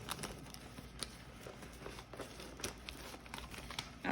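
Paper cash envelopes being pulled out and handled, with steady close crinkling, rustling and small taps throughout.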